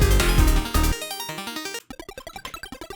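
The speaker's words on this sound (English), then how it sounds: "So when I wanted more of a square wave sound, I'd use that." A square-wave synthesizer arpeggio: a bright, buzzy sequence of rapid stepped notes, dense and layered at first, then thinning to evenly spaced pulsing tones in a quick steady rhythm.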